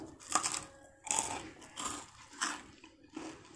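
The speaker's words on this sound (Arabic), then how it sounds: "سامعين القرمشه بتاعته جميل جدا وخفيف وحلو جدا" Crispy baked bread (fino) crunches in several distinct bites, crackly and close, with short pauses between them and no talking.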